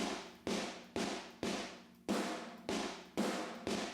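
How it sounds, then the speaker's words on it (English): Steady run of eight snare drum strikes, each a sharp crack trailing into a dense, boxy mono room sample from GGD's Modern Massive, evenly paced and loud with no voices. "the mono room sounds like this"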